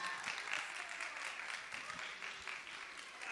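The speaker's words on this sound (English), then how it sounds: "So let's give him a round of applause." An audience at a school expo event claps steadily in a dense, continuous round of applause that holds for the whole stretch, with no talk over it.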